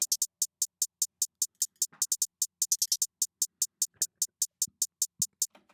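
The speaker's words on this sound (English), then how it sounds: "The hi-hat basically sounds like this." A trap-style hi-hat pattern from an FL Studio beat ticks in a steady crisp stream with a few quick rolls, the hats bright and close, with faint low hits beneath.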